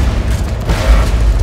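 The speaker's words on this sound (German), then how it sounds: "Ach, hier, fress eine Granate." A grenade goes off in the shooter game Borderlands 2, a deep, rumbling boom that swells and lingers briefly, loud and low with no talk over it.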